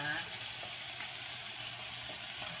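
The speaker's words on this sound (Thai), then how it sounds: "เอาไก่ไปผัดอย่างนี้นะคะ" Chicken stir-frying in oil in a crowded pan, a steady soft sizzle and hiss running throughout, close but quiet with faint occasional stirring ticks.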